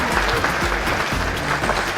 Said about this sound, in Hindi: कृपया तालियां हो जाएं